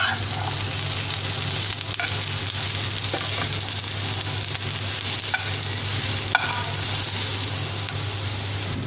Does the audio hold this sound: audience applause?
no